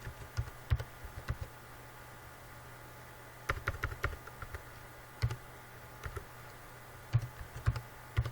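Typing on a computer keyboard during a programming lesson comes in short clusters of close, crisp key clicks separated by pauses, over a low steady hum.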